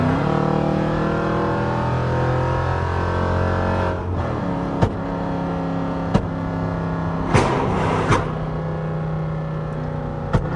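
A 5.7 Jeep Summit engine droning and revving loudly from inside the cabin, punctuated by several sharp exhaust pops and bangs toward the end.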